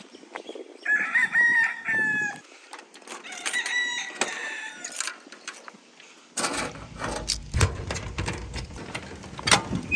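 Chickens cluck and a rooster crows repeatedly nearby, the calls rising over quiet background, followed by louder rustling and handling noise.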